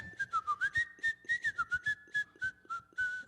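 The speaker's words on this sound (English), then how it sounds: "Can you whistle while humming?" A wavering, melodic whistle held steady over a low hummed drone, both produced at once, close and clear, with short rhythmic pulses throughout.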